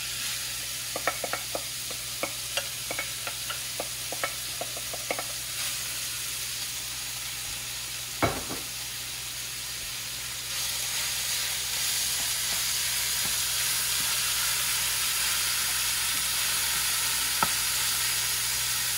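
Two pounds of ground beef cook in a hot pan for tacos. A few light stirring clicks and a thump come first, then a broad, steady sizzle swells and holds loud and close, alone without talk.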